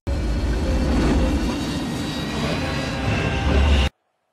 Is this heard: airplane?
yes